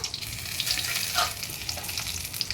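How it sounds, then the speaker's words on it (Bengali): Whole cumin, bay leaf and dried red chilli crackle and sizzle in hot oil as a tempering for a vegetarian chana paneer dish, a steady close frying hiss with small pops throughout and no voices. "তেলের মধ্যেই আমি একটু জিরে গোটা জিরে তেজপাতা শুকনো লঙ্কা"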